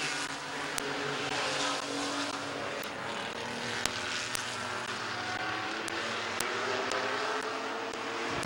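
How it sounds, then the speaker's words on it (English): Race cars lap Midvale Speedway with a steady, continuous engine roar carrying from a distance, the blended drone of several cars holding at an even level throughout. "Now here comes Connor McLean for position number 3"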